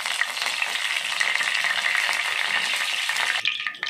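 Mustard seeds and curry leaves frying in hot oil, making a loud, dense, hissing sizzle that stays close and steady, then briefly eases and shifts at the very end.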